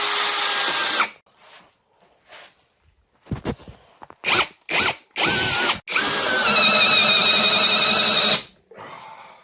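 A Worx Nitro cordless drill whirs in several short bursts, then bores steadily with a 30 mm bit for a few seconds, loud and close, with brief pauses and clattering between runs.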